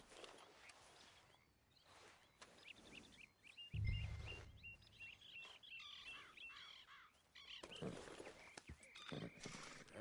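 Horse hooves clopping in Red Dead Redemption 2 as riders set off toward a beach, with birdsong and whinnies over an outdoor ambience at moderate loudness.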